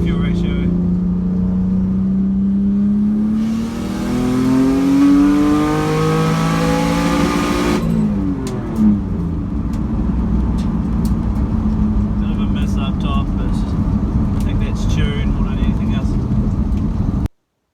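Car engine revving hard through a full-throttle first-gear pull up a hill, pitch climbing steadily before dropping at a shift, then settling into a loud sustained drone with road and wind noise throughout.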